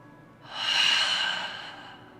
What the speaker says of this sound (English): Deep breath in, and exhale.